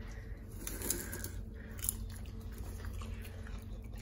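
Salted popcorn is bitten and chewed close by, giving faint crunchy bites and soft munching over a low steady hum.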